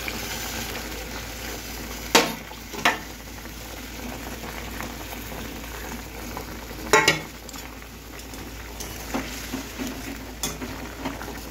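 Fish fry in a pan of hot oil with a steady sizzle and bubble, and a few sharp utensil clinks rise above the frying.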